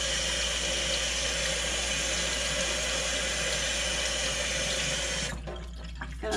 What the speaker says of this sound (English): I'm going to wash my eggs off